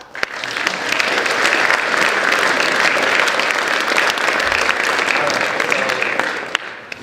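An audience at a Veterans Day celebration claps loudly after a poem, a dense sustained round of applause that swells, holds for several seconds and tapers off.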